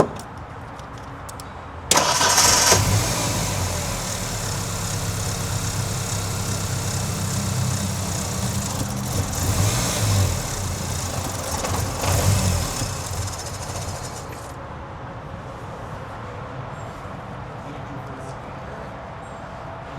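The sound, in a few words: 1993 Ford Ranger engine starting and idling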